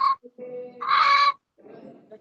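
Hens cluck and squawk in short bursts nearby, with a louder squawk in the middle and brief silences between calls.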